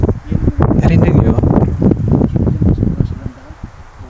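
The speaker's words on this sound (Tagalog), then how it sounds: "Kumakanta yung hangin." Gusty wind on a farm hillside rushes loudly past the microphone with rustling, rising and falling before fading toward the end, while someone speaks over it.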